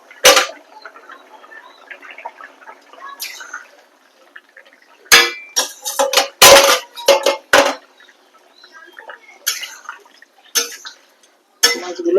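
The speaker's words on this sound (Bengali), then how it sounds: "এবার আমি এর মধ্যে মাছগুলো দিয়ে দেবো।" Pakal fish dropped into boiling taro curry in a pot: scattered clinks and sharp sizzling splashes in bursts over quiet bubbling, close by, with no talk.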